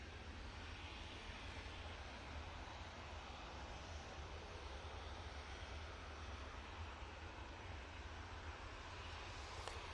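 A Ryanair airliner passes in front at Manchester Airport, a steady, loud jet roar that holds evenly with no talk over it.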